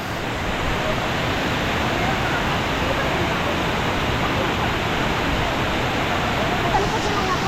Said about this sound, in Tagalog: so nandito na tayo sa main falls lakas ng lagaskas ng tubig dito